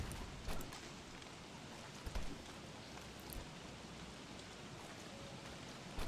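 Rainfall in the survival video game Don't Starve Together, a steady dense patter of drops with a few louder taps, continuous and moderately loud with no voices.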